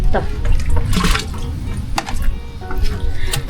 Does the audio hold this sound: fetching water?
yes